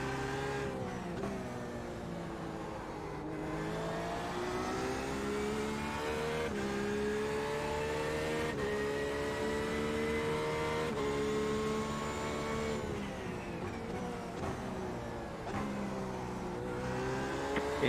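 LMP race car engines in the iRacing sim racing game drone continuously with layered, shifting harmonic pitch as several cars accelerate and ease off through a chicane. The loud, steady roar has no voices over it.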